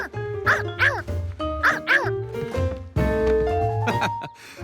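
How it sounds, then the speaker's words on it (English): A young otter pup in a cartoon gives a string of yappy, dog-like barks, two quick double yips followed by a longer whining bark, loud and close over a light musical backing. "But it did bark."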